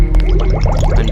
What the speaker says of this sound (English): But I do want to drink some water.